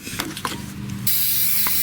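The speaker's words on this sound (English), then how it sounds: "don't be afraid to spray things like differentials and things like that" Aerosol rustproofing sprayed onto a vehicle's undercarriage, a close steady hiss that grows louder partway through, with a few small clicks.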